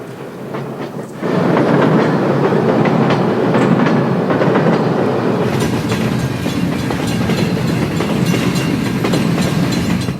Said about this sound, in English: The train then began to roll downhill toward Lac Mégantic